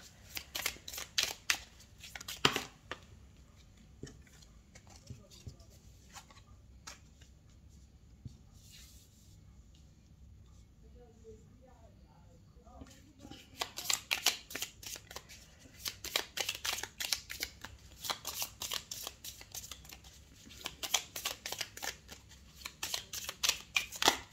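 Tarot cards shuffled in repeated crisp riffling bursts, loud and close, with a quieter stretch of soft handling in the middle before the fast shuffling resumes, no voices.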